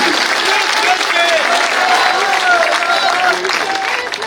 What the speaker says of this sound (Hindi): जोरदार ताली बजाकर स्वागत करें